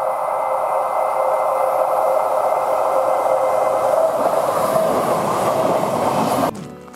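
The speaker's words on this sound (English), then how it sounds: "We won't reach it before the train!" A train rumbles past nearby at steady loudness, a continuous broad roar of rolling wheels and rail noise that cuts off abruptly near the end, with no talking.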